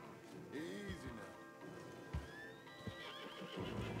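Horses in Red Dead Redemption 2 whinny with a rising, wavering neigh and shuffle their hooves in a clip-clop, calm and near, with a few heavier thuds and soft rustling between calls.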